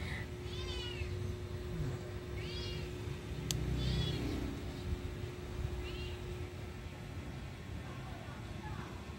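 A pet cat meows repeatedly, several drawn-out, moderately close calls spaced a second or two apart over a low steady hum, with a brief sharp click midway.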